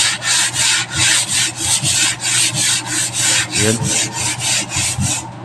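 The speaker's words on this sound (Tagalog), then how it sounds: "tayo ngayon ay naglilihan na" Sandpaper works over a wooden cabinet in steady back-and-forth strokes, a loud, close rasping rub repeating about twice a second, with a brief spoken word near the start.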